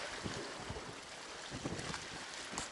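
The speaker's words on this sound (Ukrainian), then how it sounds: "Ух, вітер як задуває." Strong wind buffets the microphone on the Black Sea shore during mullet fishing in November, a continuous rough roar with repeated low gusty thumps, and waves are faintly audible beneath it.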